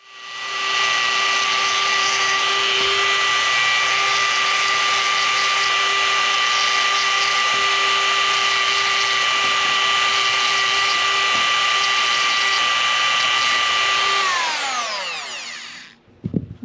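A power tool grinds the outside of a cut black tent pole with a loud, high, steady whine that holds for about fourteen seconds, then winds down with a falling pitch and ends in a few clunks.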